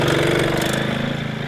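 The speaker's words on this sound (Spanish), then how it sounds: "Vamos a arrancar otra vez la moto porque no lo he escuchado bien, la quiero escuchar." A motorcycle engine runs close and loud, steady with a rhythmic throbbing pulse and a rough mechanical edge throughout, then a brief sharp tone at the very end.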